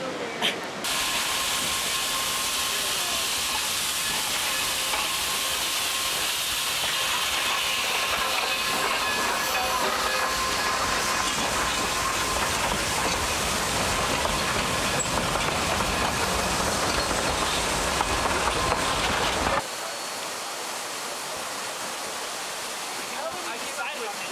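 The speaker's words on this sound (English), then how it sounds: "we're waiting for the train to arrive" Loud, continuous hiss of a steam train with rumbling rail noise, steady for about twenty seconds before abruptly dropping to a quieter background.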